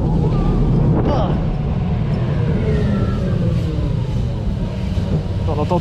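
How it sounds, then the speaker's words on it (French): Engines of ride vehicles at an amusement park during a Christmas visit, a steady loud motor rumble with revving swells throughout, with people talking over it. "On entend tous les moteurs"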